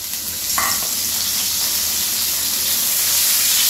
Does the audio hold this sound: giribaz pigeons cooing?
no